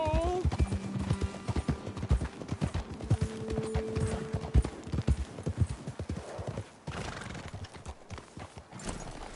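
Horses' hooves clip-clopping in a video game as riders come to a halt, a dense close run of hoofbeats with a whinny and tonal game sounds, the clatter thinning toward the end.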